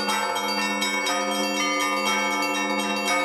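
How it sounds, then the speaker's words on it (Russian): Several church bells ring together in a dense, overlapping peal, loud and close, with a steady rhythm of strikes and long ringing tones. "Я, когда звоню в колокола"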